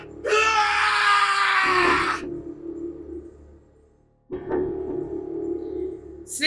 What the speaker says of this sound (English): His scream echoed through the incineration chamber, full of rage and despair.